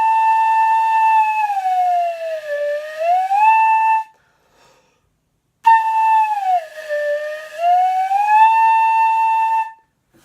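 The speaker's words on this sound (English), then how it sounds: "You can move your finger in and out of that open part of the head joint, and you can get a siren, almost like a slide whistle" Flute head joint played alone with a finger sliding in and out of its open end, giving two loud, clear siren-like swoops that glide down and back up in pitch, separated by a brief pause.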